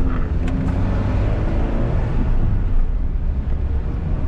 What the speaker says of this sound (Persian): یه ماشین کنار ماست،